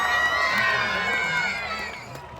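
Concert crowd at an outdoor stage event in Brahmavar cheers and shouts to welcome actor Rishab Shetty, a dense, steady roar of voices and applause that fades slightly toward the end.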